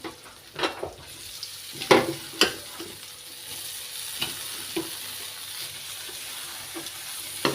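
Boiled radish and potato pieces go into a pan of hot oil with turmeric and are stirred, giving a soft sizzle under several sharp scraping knocks that thin out into sparser stirring.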